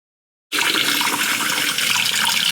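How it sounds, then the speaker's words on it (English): Film fixer poured from a darkroom tray back into a jug through a filter funnel, starting abruptly as a steady, close, loud gushing stream that continues without pause. "Now I'm going to pour my fixer back into the jug."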